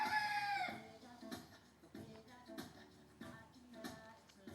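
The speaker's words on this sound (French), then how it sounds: "Un coq, c'est un réveil ou quoi?" A rooster's crow ends at the start, loud and near, then soft rhythmic clucking and shuffling noises follow in a quiet indoor space.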